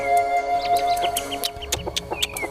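A rooster in a radio drama scene clucks and calls in a series of short, close, fairly loud bursts over a faint background tone.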